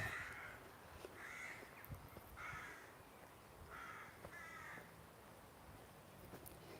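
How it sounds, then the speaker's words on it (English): Crows caw near their nests, a series of harsh calls repeating every second or so, with a couple of birds overlapping at moderate distance outdoors. "Get a lot of crows nesting here."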